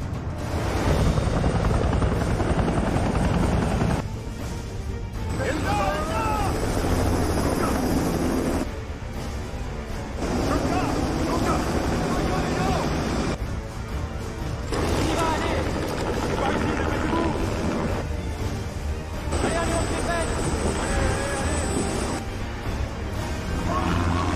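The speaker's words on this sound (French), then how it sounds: "Où en sont les hélicos? Ils sont en train de se poser." Helicopters landing during a hostage rescue, a loud, steady thumping rotor and turbine roar that fills the whole stretch, close by, with voices talking over it.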